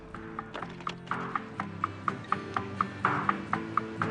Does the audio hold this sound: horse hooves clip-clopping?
yes